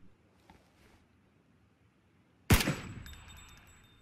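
Quiet footsteps and movement give way to a single sharp, loud gunshot in PUBG, crackling and echoing as it decays over the following second and a half.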